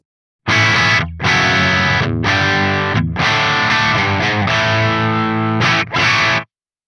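A heavily overdriven electric guitar through a Soldano SLO-100 amp plays loud, gritty chords and riffs, with short pauses between phrases.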